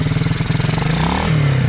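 A motorcycle engine, a MRF bike, idles and revs gently under light throttle, with a steady rumbling pulse close by and a slight rise in pitch near the end.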